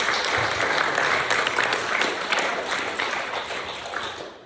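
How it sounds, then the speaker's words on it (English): A crowd claps loudly and steadily to thank two event assistants, a dense, continuous round of applause that slowly tapers off near the end. "And I'd just like you to give them a round of applause and say thank you."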